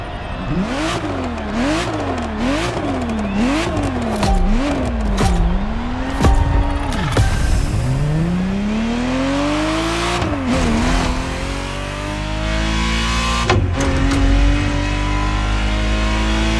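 A Ferrari Testarossa engine revs hard in The Crew Motorfest video game, climbing and dropping through rapid gear shifts, then swelling into a long sustained rising howl, loud and close throughout with no speech.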